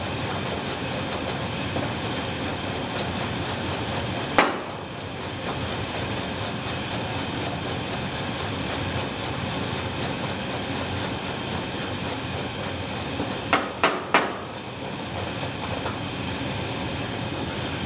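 A residential HVAC unit runs steadily during a refrigerant pump down, giving a constant broadband mechanical hum with a couple of brief clicks and clatters partway through.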